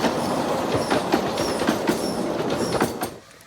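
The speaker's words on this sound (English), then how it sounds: "I headed down to the depot so I could catch the miniature train coming in once again" A miniature train at the Hesston Steam Museum rolls past close by with a steady clickety-clack of wheels over rail joints and faint wheel squeal, fading away at the end.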